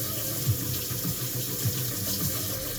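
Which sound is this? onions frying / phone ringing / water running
water running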